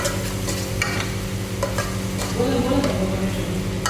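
Ginger-garlic paste sizzling in a kadai while a spoon scrapes and stirs it, steady frying hiss with repeated close metallic scrapes over a constant low hum.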